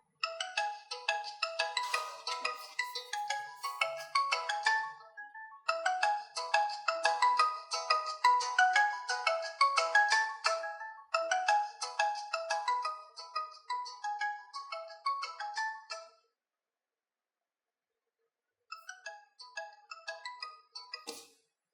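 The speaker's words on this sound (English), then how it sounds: "whenever you get a call, you can pick up your phone and the ringtone volume goes down" POCO F1 phone ringtone playing a repeating bright chiming melody in short bursts, the level dropping once the phone is lifted, then a gap of silence before it resumes briefly and quietly.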